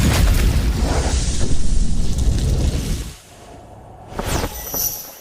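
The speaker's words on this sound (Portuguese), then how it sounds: "O som daquela explosão não pode ser real" A loud explosion rumbles in a fantasy drama scene near an energy core, a dense, booming roar with heavy low rumble that lasts about three seconds before dropping away, then a brief crackling aftershock.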